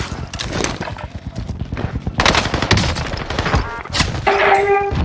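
Rapid video game gunfire from a favourite weapon, with loud close bursts of shots rattling off in quick succession throughout and a brief lull between volleys.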